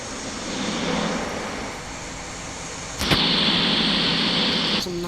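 Jet airliner taxiing to runway 03 left at an airport in the Infinite Flight simulator, a steady engine drone and hiss throughout, with a sharp click partway through after which a brighter whine rises and holds.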